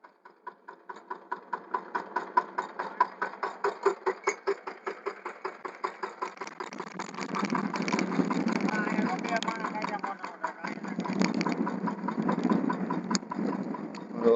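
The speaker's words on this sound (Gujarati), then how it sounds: "તો આ રીતે આખું ટ્રેક્ટર વળી જાય છે." A mini tractor engine chugs nearby at a steady idle with distinct rhythmic pulses, then runs louder and rougher under load, working a field with a homemade cultivator rig.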